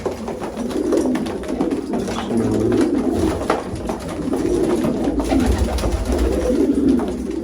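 Pigeons of an unusual breed cooing in a loft, a loud, close chorus of low, throaty rolling coos repeating in overlapping waves, with no talking.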